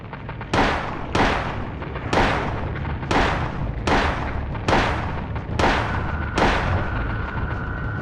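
Gunshots in the PS1 video game Silent Hill, seven loud booming shots spaced about a second apart, each with a long decaying echo, and no talk over them.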